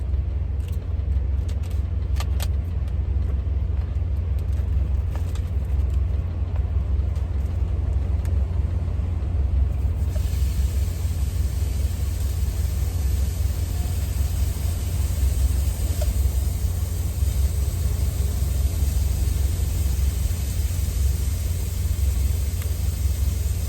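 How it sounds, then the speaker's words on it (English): A parked truck engine left idling, a constant low rumbling hum that drones on unchanged, with steady broadband hiss layered over it and a few faint clicks early on. "So I gotta leave the truck running while I'm doing this"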